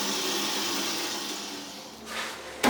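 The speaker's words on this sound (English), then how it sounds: "here we are at my belt sander, or as I refer to, the most dangerous machine in the shop" A belt sander with a 60 grit belt runs in a woodworking shop, a steady loud whirring drone that shifts slightly near the end and breaks off in a sharp knock.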